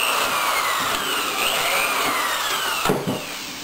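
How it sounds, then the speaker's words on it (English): A power drill boring a hole while fitting out a vehicle interior, a steady close whine with rising and falling pitch that stops abruptly near the end. "And then go ahead and then drill."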